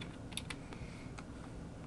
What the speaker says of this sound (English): Now I'm just going to use a keyboard shortcut with the Move tool selected, hold down the Command and Control key and just go up, down with your arrow key